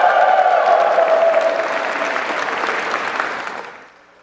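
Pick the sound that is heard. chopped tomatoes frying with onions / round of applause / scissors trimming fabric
round of applause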